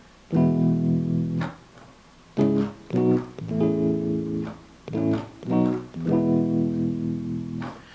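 Sustained harmonic chords played in separate bursts, each ringing for a moment before the next, forming a melodic progression with brief gaps between.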